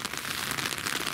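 Steady rain falling, a dense close hiss of drops pattering on a surface without pause.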